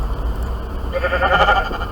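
A synthetic sheep bleat from Minecraft, one short wavering call over low background noise.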